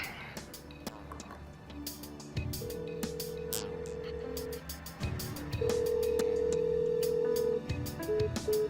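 An outgoing phone call rings unanswered, with repeated electronic ringback tones sounding in long, even pulses over soft background music.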